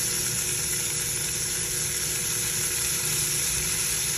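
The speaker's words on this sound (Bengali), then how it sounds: "এখন এইভাবে আমি হালকা ভেজে নেব" Vegetables lightly frying in a pan for Bengali bharta, a steady close sizzle with hissing crackle running evenly and alone throughout.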